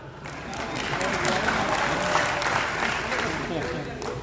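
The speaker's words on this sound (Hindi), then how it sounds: "2-3 भाइयों ने उस आदमी के लिए तालियां बजाई" Thin, sparse clapping from just a few audience members at a Hindi poetry gathering (kavi sammelan), steady and light over several seconds, partly under talk.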